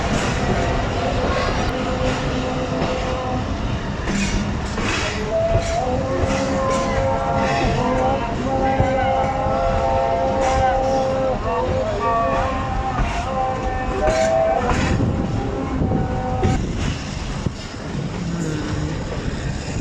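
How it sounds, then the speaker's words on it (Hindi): The 122 DN Ravi Express pulls out of Jaranwala railway station in Pakistan: a continuous loud rumble of rolling wagons and a diesel engine, with tonal squeals and whines from wheels and brakes, close by and steady throughout. "Ravi express Jaranwala railway station से रवाना हो रही है।"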